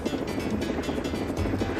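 A helicopter arriving fills the air with a loud, steady rotor thrum and engine drone that holds strong throughout, with no voices over it.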